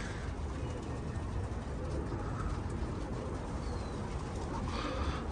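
Doves coo faintly and intermittently somewhere away from the listener, nearly buried under constant broadband noise.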